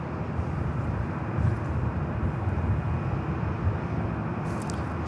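A Delta Airlines Airbus A321neo arriving at LAX from Seattle makes a broad, steady jet roar that holds at a fairly even level with slight swells, distant and continuous.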